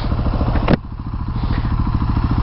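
A Husqvarna 701 Supermoto motorcycle being ridden, its single-cylinder engine thumping in a fast, even pulse close by, with a brief clattering knock partway through.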